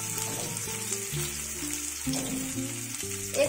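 Sliced onion drops into hot oil for a tempering, crackling in a steady close sizzle beneath background music, with a brief sharper spatter at the end.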